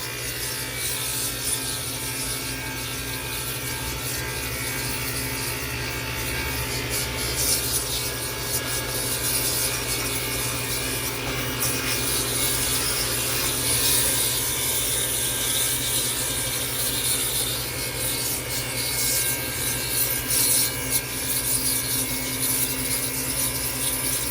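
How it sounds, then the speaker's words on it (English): Loud, continuous mechanical droning and rattling of a freezer's compressor straining under heavy load, harsh and unbroken throughout with no speech. "Man, that compressor is noisy. She's under a load right now, big old load."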